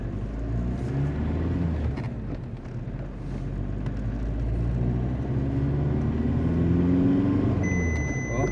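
A VW Golf IV with a 1.9 TDI diesel pulls away, its low engine rumble rising and falling through gentle acceleration, close and steady with road and cabin hum underneath.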